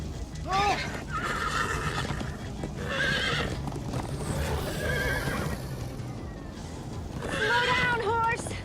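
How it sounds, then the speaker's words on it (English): Horse neighing and whinnying with hoofbeats galloping underneath, in the Minecraft: Story Mode video game; loud, repeated whinnies near the start, middle and end, with voices talking over the clatter. "Slow down, horse!"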